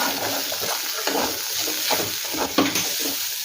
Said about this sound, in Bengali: ডালের সাথে গুঁড়ো মশলা ভালো করে মিশিয়ে নেব।